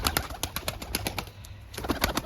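Domestic breeding pigeons kept in a rooftop loft coo steadily, with a low murmuring drone and a quick series of sharp, close-up pulses and rustles from birds moving about nearby, and no voices heard.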